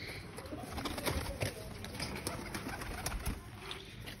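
Pigeons coo softly and steadily in a loft, their low murmuring calls layered over broadband background noise with a few brief bird sounds and possible faint talk.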